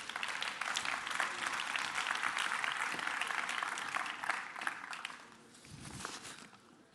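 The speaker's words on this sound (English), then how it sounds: "Please give him a round of applause." Audience applause for a keynote speaker at the ChangeNOW 2024 conference, full clapping that thins out, followed by faint footsteps near the end.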